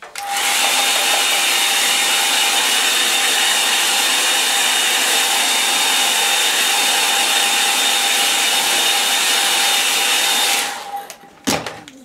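Hair dryer blowing steadily and loud over black ink on a quick tree painting study, a continuous broadband whoosh with a faint whine that runs for about ten seconds, then cuts off with a few handling clicks.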